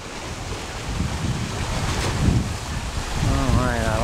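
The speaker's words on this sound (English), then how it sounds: "This is not the ocean. This is Laguna Bacalar. This is all fresh water." A boat moves across the freshwater Laguna Bacalar, with steady wind buffeting the microphone over a constant wash of water and waves, loud and continuous throughout.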